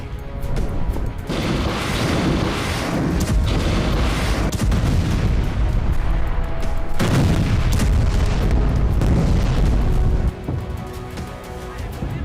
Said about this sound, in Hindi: वीडियो में साफ दिख रहा है किसी अंडरग्राउंड ठिकाने से रॉकेट हमले किए जा रहे हैं